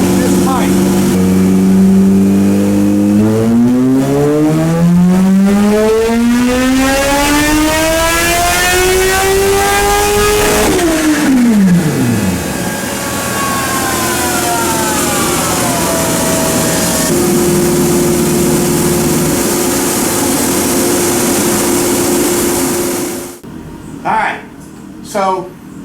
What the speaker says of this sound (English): I want you to see the difference in how much quicker it accelerates with this pipe